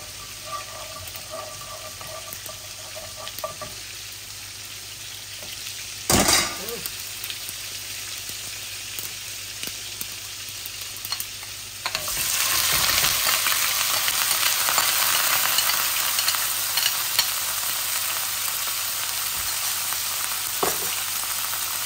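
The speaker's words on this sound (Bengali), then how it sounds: "একটা তেজপাতা আছে আর 5 ফোড়ন দিচ্ছি" Bay leaf and five-spice (panch phoron) tempering sizzling in hot oil for a rohu fish do-pyaza, a steady frying hiss that swells louder midway, with a few sharp clatters and some faint talk.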